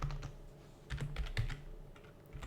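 Computer keyboard typing while writing Python code for a Batman soundboard app, a few quiet scattered keystrokes in small bursts, close and faint with no talk.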